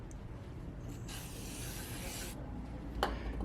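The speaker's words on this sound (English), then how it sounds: "As soon as you remove the axle, you want to spray some brake cleaner on the surface right there to clean it up" A can of brake cleaner hisses in a steady spray onto a Land Rover axle surface for about a second, set against quiet workshop background, followed by a brief clunk.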